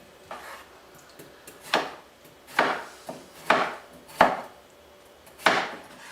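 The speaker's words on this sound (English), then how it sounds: "So what we do is then we slice this, slices like this." Knife slicing through raw vegetables on a cutting board for juicing, about seven crisp chops spaced unevenly, each a sharp near thud with a brief scraping tail, no talking.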